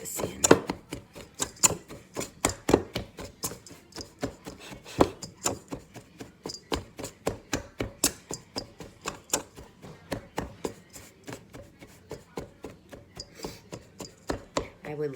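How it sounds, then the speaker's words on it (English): A pastry cutter cuts butter into crumble topping for raspberry bars, giving dozens of sharp, evenly paced chops and scrapes in a bowl, close and steady without pause. "I use your pastry cutter to"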